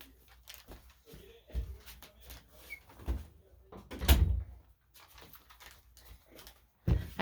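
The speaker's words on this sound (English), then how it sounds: "I forgot to close my door." A room door is pushed shut indoors with a single firm thud near the middle, surrounded by quieter shuffling and handling noises.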